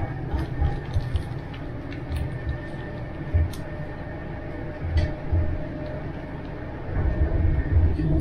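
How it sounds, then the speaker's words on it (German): Steady low rumble and rattling from inside a moving train carriage, with periodic thumps and clatter from the tracks. "jetzt sind wir hier im Zug drin und jetzt dahin fahren"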